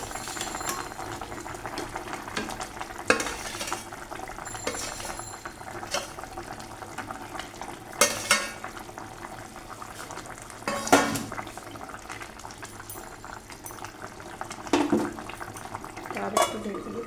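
Potatoes and eggplant fry in a pan for an eggplant-potato hilsa fish curry, with a low bubbling sizzle under intermittent clinks and scrapes of a spoon against cookware, heard close.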